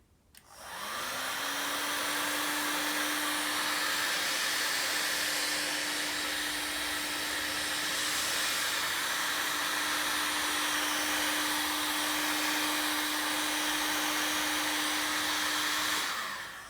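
Heat gun blowing hot air onto ordinary non-glued heat shrink tubing over a terminal during electrical repair on a Suzuki Bandit motorcycle; a steady, loud whooshing hum with a constant tone runs unbroken for about fifteen seconds.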